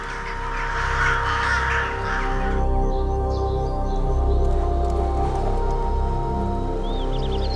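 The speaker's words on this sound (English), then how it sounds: "These crows are not about to stay and pick a fight." Crows cawing outdoors, several harsh calls overlapping early on, then sparser caws over a steady background hum with a light patter like rain.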